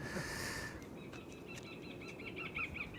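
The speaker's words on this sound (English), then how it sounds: "you can hear the sound effects, the predator bird sound effects" Predator bird calls broadcast over an airport runway during a bird inspection, a series of short chirping, screeching cries repeating at a distance over steady broadband outdoor noise, louder toward the end.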